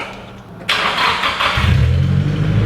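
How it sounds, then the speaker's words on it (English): A BMW E36 with an exhaust leak cranks and fires up, then settles into a loud, close idle with a breathy, hissing blow under the engine rumble. "There you go, you hear that exhaust blow?"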